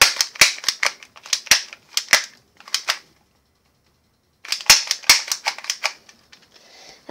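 A BB submachine gun fires in sharp rapid clicking bursts, close and loud, pauses for over a second, then fires another quick burst that tapers off.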